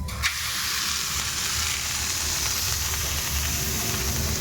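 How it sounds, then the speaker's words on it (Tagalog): Pork sizzles in a hot pan with no added oil, cooking in its own fat, a loud continuous frying hiss with crackling spatter and a brief clink near the start. "ang baboy ay nagigisa sa sarili niyang mantika"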